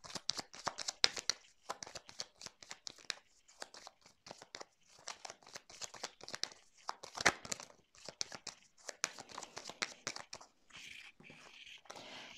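Tarot cards shuffled and dealt onto a cross spread, giving close, quiet, rapid papery riffles and flicks in bursts over several seconds, with brief pauses and soft slaps as cards are laid down, with no talk.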